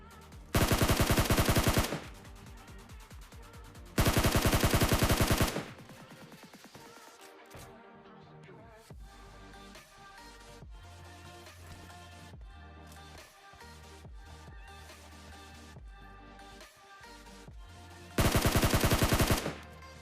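Gunfire in the PUBG shooter game: three loud automatic bursts, each lasting one to two seconds, break out over quieter game sounds and movement between them.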